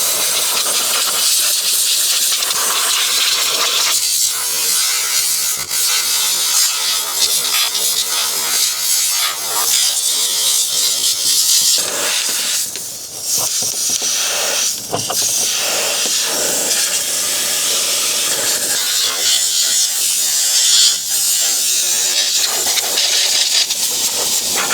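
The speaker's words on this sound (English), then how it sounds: "So I am going to try to blow some air through and make sure there is no make sure that those radiator fins aren't getting clogged with sand" Compressed air blasting through the radiator fins of an Onan generator clogged with sand and debris, a loud continuous close hiss lasting throughout with slight surges and one brief dip midway.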